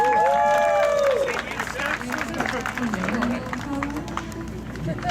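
An outdoor car show crowd applauds an award winner, clapping spread through the crowd while people talk and a voice carries over the noise.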